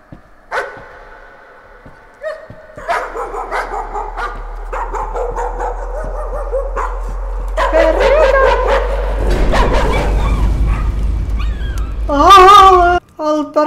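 A demon dog barks and whimpers in the Layers of Fear horror game, several sharp close barks and yelps over a rising low drone, ending with a warbling whine, without talk over it.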